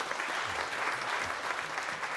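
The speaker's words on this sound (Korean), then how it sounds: "우리 인사하실 때 격려의 박수를 보내주시기 바랍니다." A church congregation at a Sunday worship service claps in welcome for a new pastor's family, giving a brief, even patter of many hands heard at moderate distance.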